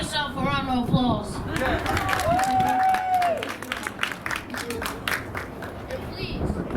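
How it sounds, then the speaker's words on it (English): An audience of women at a community program gives a round of applause, scattered clapping mixed with cheering voices, a whoop and crowd chatter. "Ladies, give yourself a round of applause"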